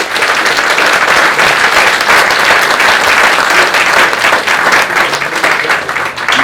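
Sustained, dense applause from a large audience fills a university lecture hall, loud and steady throughout with no pauses and no speech over it.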